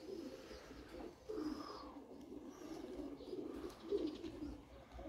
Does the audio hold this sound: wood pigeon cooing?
yes